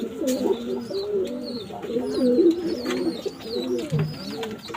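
Continuous low, throaty cooing of Pakistani pigeons, several birds overlapping in a steady rolling rhythm, with faint higher chirps in the background.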